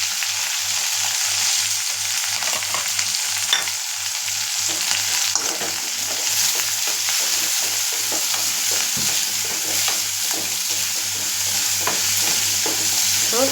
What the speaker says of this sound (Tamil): இப்போ வெங்காயம் வதங்கி வந்திருக்கு